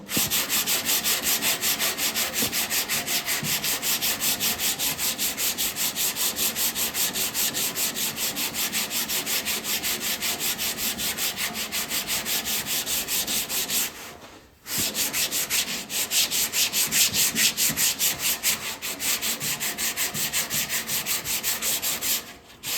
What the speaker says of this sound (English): it will hit that with the inline sander